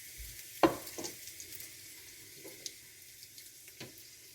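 Red chilies drop into hot oil seasoned with asafoetida, producing a sharp sizzling burst followed by quieter crackles and faint spitting at close range.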